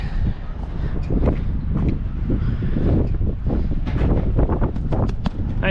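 Strong, steady wind roars and buffets the microphone throughout, with a constant low rumble and gusty rustling.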